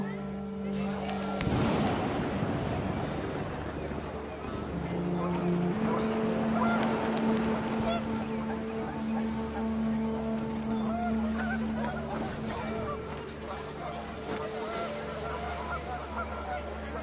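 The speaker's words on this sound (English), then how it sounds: "The wind picked up, and panicked geese appeared and quickly went." Panicked geese honk in What Remains of Edith Finch over a windy outdoor scene, a steady wash of noise with a sustained honking tone through the middle, while a voice narrates.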